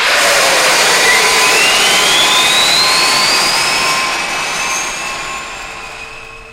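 The Goldorak spacecraft from the 1979 cartoon takes off as a loud, steady jet-like roar with a rising whine, slowly fading as it recedes, with no voices.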